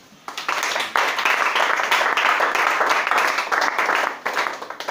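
A church congregation applauding during a French-language worship service, a broad, steady wash of many hands clapping that rises quickly and holds for several seconds before tapering slightly.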